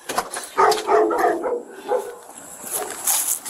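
A dog barks repeatedly at a home during a heated family confrontation, the short bursts fairly close and mixed with raised voices.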